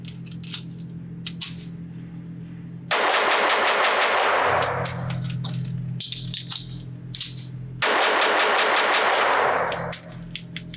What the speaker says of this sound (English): I'm just going to point shoot, act like I'm having to defend my life, and see how well I do.